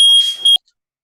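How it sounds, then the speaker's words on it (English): A loud, piercing fire alarm beeps close by, holding a steady shrill tone, dropping briefly, then sounding again before cutting off abruptly into silence. "fire alarm went off."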